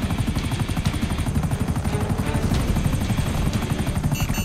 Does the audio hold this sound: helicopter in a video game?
yes